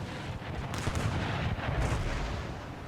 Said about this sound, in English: I thought we were going to fire a round shot.